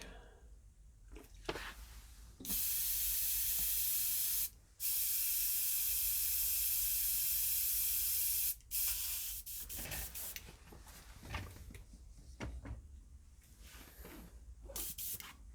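An airbrush sprays brush cleaner through in two long, loud, steady hissing bursts, separated by a brief pause, followed by quieter clicks and handling noises nearby.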